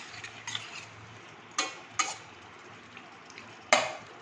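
Taro stems with chili powder are stir-fried in a pan, with a soft, low sizzle under several sharp scrapes and knocks of a spatula against the metal. The sounds are close and nobody talks.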